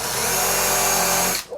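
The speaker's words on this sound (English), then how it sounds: "Get your cordless, just drill a hole." A cordless power drill bores a hole through wood to keep a screw from splitting it, whining loud and steady at close range for over a second before spinning down and stopping.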